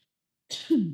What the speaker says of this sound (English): I had to cough a little bit.